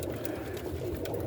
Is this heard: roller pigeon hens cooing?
yes